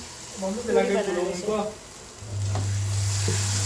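Chole masala with turmeric sizzling as it roasts in hot oil in a pan, a steady close frying hiss under a low hum, following a short stretch of talk.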